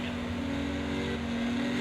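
A race car engine with a mechanical problem drones steadily and loudly at a held pitch through gear changes, its note wavering slightly without clean shifts, with no talk over it.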